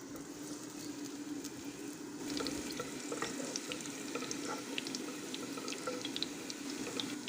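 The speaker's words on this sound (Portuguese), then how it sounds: "Agora eu vou dar uma refogadinha no alho e derreter a banha" Garlic sautéing in melted pork lard, with a steady close sizzle and crackle throughout that grows a little louder after the first couple of seconds, with no talking.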